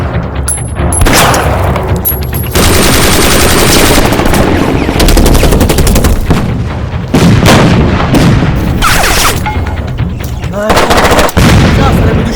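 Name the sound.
gunfire in a comedy skit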